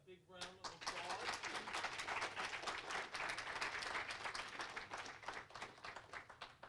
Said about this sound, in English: Let's give Kate a big round of applause